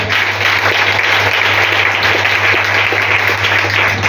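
A church congregation applauding during a French-language sermon: loud, continuous clapping from many hands, close and dense throughout, with a steady low hum running underneath.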